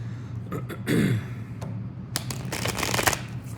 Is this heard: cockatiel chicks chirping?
no